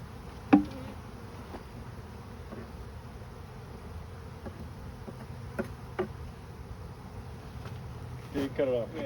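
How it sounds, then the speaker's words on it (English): Honey bees from a package buzz around a hive during installation, a faint steady drone with scattered ticks and taps of handling and a brief louder knock. "there's just tons of bees here"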